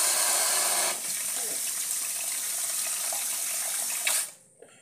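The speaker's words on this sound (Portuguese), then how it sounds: "Ó, vou adicionar no água." Water pours steadily from a tap into a pot while cheese is being made at home, a continuous hissing splash that stops abruptly near the end.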